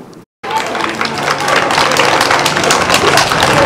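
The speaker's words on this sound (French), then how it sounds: "Ces acclamations des élèves justifient une bonne qualité de l'éducation offerte dans les écoles" Schoolchildren cheer and applaud in a sustained, dense burst of clapping and shouting that swells after a brief silence and stays loud and steady throughout.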